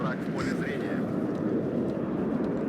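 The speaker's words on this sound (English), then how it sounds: "So anti-tank aircraft coming in" Anti-tank aircraft flying in during a WARNO multiplayer battle, a steady loud jet engine roar filling the whole stretch with battle noise, under game sounds and a voice.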